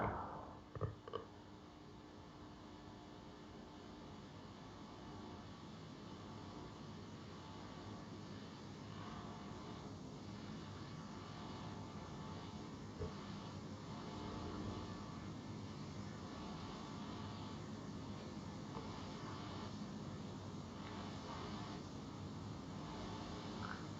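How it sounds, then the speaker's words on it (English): Faint jet engines roar steadily in the background at an airport as a traveler gets off an airplane, a continuous distant whoosh lasting throughout. "I started hearing like jet engines in the background"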